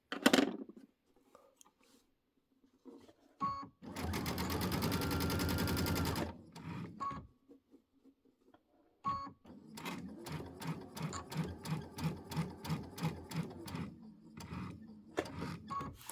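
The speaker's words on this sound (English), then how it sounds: "I'm going to sew all the way until I get to that little line there." A sewing machine sews binding onto a Christmas quilt in two bursts: a steady two-second run, then after handling clicks a longer stretch of evenly pulsing stitches, with quiet pauses and small knocks between.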